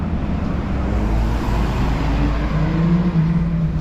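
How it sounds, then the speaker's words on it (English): Heavy diesel bus rumbling into a quiet Ibiza street amid light traffic, a steady low engine drone that swells slightly toward the end with a faint whine, close and continuous, no voices. "maybe that's my bus"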